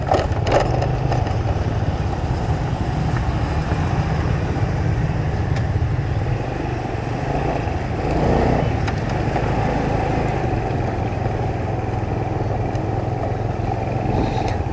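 A bulldozer clears ground for a new road through Binh Hung Hoa cemetery, giving a continuous rumbling, scraping din with crunching and cracking of debris, steady and fairly close throughout.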